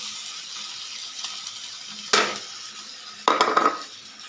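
Hotdog pieces drop into a pan of browned fried garlic for fried rice and get stirred, making two sharp bursts of sizzling with metallic utensil scrapes over a quiet background of faint frying.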